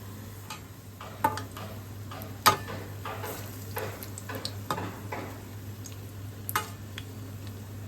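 Potato fritters (alur bora) dipped in gram flour batter frying in hot oil in a kadai, with a soft sizzle under scattered clicks and taps as they are turned.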